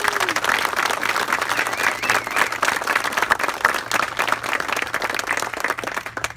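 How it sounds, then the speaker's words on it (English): Audience applause at a park ribbon-cutting ceremony in Gaithersburg, Maryland, with steady, dense clapping from a sizable crowd, sustained throughout and tapering slightly at the end. "Let's give them a round of applause."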